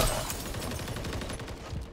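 Rapid gunfire from a teammate in Modern Warfare 3 ranked play, a dense run of sharp automatic shots crackling steadily for about two seconds at moderate level.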